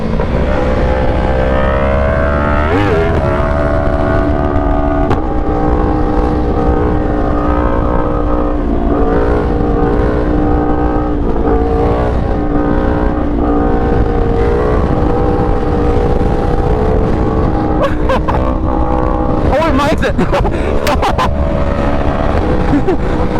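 A Yamaha R1 sport motorcycle fitted with new parts is ridden, its engine droning loudly and continuously at a fairly steady pitch with slight rises and falls, plus rushing wind noise, throughout the ride.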